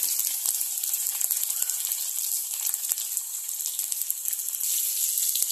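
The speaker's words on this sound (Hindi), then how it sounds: "अब हम ओनियंस को अच्छे से फ्राई होने देंगे" Onions frying in a pan for a baby corn mixed vegetable dish give a dense, bright, continuous sizzle that holds steady and close throughout, with no voices over it.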